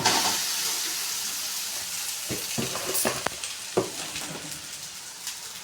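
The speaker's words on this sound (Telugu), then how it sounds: "ఇప్పుడు మనం రైస్ వేసుకోవాలి దీంట్లోకి చూడండి ఫ్రై చేసుకోవాలి" Rice sizzles and fries in a hot pan while being stirred, with a steady loud sizzle and intermittent scraping and clinks of the spoon against the pan, no talking.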